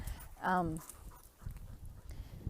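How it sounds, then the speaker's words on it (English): Dogs out on a walk, one giving a short whining vocalization up close, followed by soft footsteps and rustling outdoors. "If you can hear the dogs, I'm just taking them for a walk"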